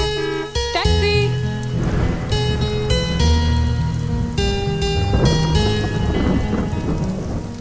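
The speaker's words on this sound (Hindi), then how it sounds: "बॉम्बे की बारिश नहीं है ये." Heavy rain pours steadily with rolling thunder in a movie scene, dense and loud throughout with layered music-like tones over the downpour and no talk.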